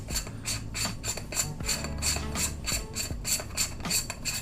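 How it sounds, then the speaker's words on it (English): Rapid ratcheting clicks as the threaded back of a Polar Pro camera filter is unscrewed, about a dozen sharp, close clicks in quick, slightly uneven succession, nothing else audible. "you screw the back side off like this"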